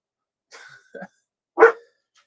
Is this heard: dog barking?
yes